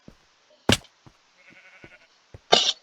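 A few short Minecraft sheep bleats, one sharp and bright near the start and another at the end, with faint clicks and knocks in between.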